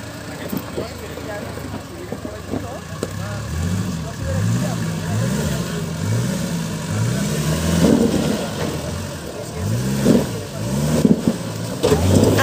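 A 4x4 off-road car at a Masía Palarda 2022 event revs its engine in repeated rising and falling surges, close and loud, while people talk and shout nearby.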